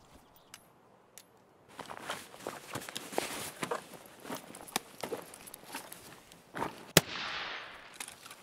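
Gunfire in Escape From Tarkov, a series of sharp, close shots spread across the stretch, followed by one especially loud crack, with faint talk and movement sounds around it.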